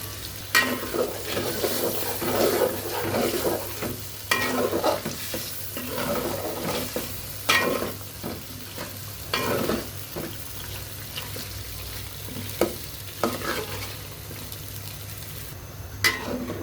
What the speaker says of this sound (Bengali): আলুটা একটু কষাবো, তারপর মুরগিটা দিব